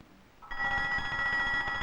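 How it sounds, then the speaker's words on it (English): An office alarm bell in a 1965 science-fiction television episode starts abruptly after a moment of quiet and rings on continuously, loud and shrill, with no talk over it. "That's the alarm in Tillinger's office."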